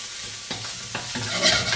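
Mince frying with paprika, cinnamon and cumin being stirred in a pan, a steady sizzle broken by a few scraping spoon strokes, close and fairly loud.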